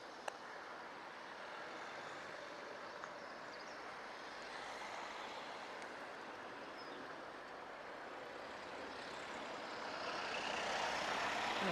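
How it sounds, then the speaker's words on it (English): A faint, distant wash of road traffic passing through a quiet village near a level crossing, a steady hiss of tyres and engines that grows slightly louder toward the end. "And I've just caught a wedge of traffic."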